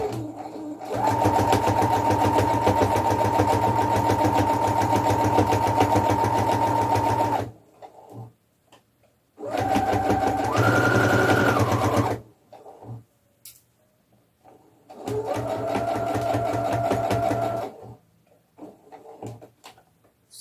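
A sewing machine stitches pajamas for a cloth doll in three loud, close bursts of rapid, steady whirring, separated by short pauses filled with faint handling clicks.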